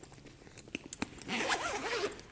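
A Tom Bihn bag zipper gets pulled open in one quick, close rasping run after a few soft handling clicks and taps.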